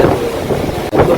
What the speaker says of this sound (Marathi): लाटा पण खूप येत आहेत